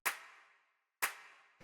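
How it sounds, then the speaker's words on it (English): Two crisp layered hand clap hits from an organic deep-house sample kit, each a sharp bright snap with a short airy decay, spaced about a second apart and heard alone. "this clap has that nice hand clap sound"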